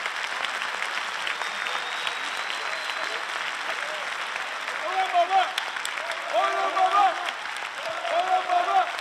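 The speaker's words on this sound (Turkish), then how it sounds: "Bir büyük alkış hakikaten. Alalım lütfen." Audience applause rises steadily on a Turkish television show, with a voice talking over it.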